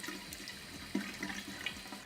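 Water splashes softly and steadily up close as a face is rinsed while being washed with a scrub, quiet and continuous with a slightly brighter splash near the middle and no voices.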